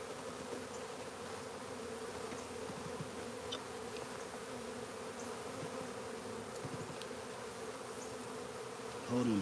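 Bees buzzing in a steady, continuous drone close by, with a faint voice under the hum and a brief louder bump at the very end.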